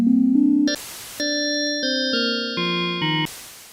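Kawai vintage synthesizer, an SX-240 or K3, playing a buzzy sawtooth wave in a short sequence of sustained stepping notes, loud and alone, with brief noisy bursts between some notes.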